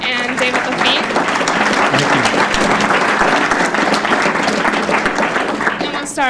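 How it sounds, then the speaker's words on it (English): Enthusiastic applause from an audience at a university healthcare technology talk honoring two presenters, continuous and full for about six seconds, with a voice breaking in near the end. "We'll give a round of applause for Dr. Yulun Wang and David LaFitte"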